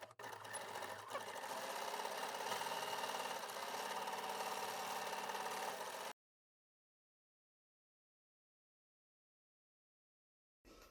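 A sewing machine fitted with a walking foot stitches cotton fabric in a loud, steady, rapid mechanical whir for about six seconds before stopping, then briefly starts again at the very end.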